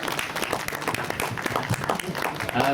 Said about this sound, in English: Round of applause for my wonderful cast, please.